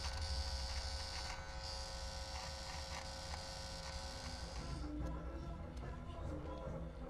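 Electric hair clippers buzz steadily while trimming and shaping a beard into a rounded bottom edge, a close continuous motor hum that carries throughout, with a voice talking over it.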